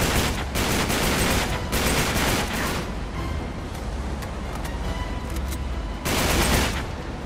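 Dense, sustained gunfire from the video game Uncharted 3, shooting from a moving vehicle, with loud bursts of rapid shots and booms that ease slightly mid-clip before flaring up again near the end.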